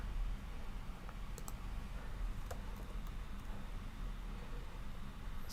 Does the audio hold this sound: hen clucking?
no